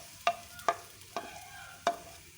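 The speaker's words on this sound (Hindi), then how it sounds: "सबसे पहले हम कढ़ाई में तकरीबन 1 कप ऑयल शामिल कर लेते हैं और साथ ही उसमें 1 अदद दरमियाने साइज़ का बारीक कटा हुआ प्याज शामिल कर" Finely chopped onion frying in about a cup of oil in a kadai, a soft sizzle under four sharp, evenly spaced scrapes of a spoon stirring against the metal.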